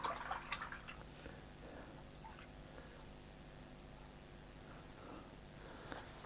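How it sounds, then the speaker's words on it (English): A paintbrush is rinsed in a water pot during watercolour sky painting: faint sloshing and dripping, louder at the start, then soft liquid movements and occasional drips in a quiet room. "I'm going to wash my brush out."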